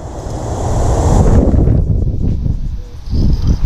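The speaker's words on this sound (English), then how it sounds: "It's super windy today, so that's kind of sucky, but that's okay." Strong wind gusts across a pond while a leech trap baited with a frozen perch head is set, with loud, buffeting rumble hitting the microphone and a lull near the end.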